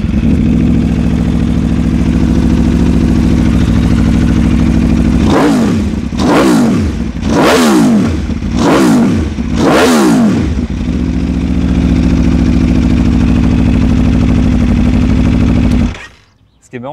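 An Aprilia sport motorcycle with a homologated exhaust idles loudly and steadily, then gets five sharp throttle blips in quick succession before settling back to idle and cutting off at the end.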